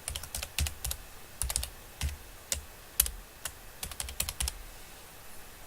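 Quick bursts of keystrokes on a computer keyboard as a name is typed into a text box: sharp, close clicks in short irregular clusters with brief pauses between them, in an otherwise quiet room.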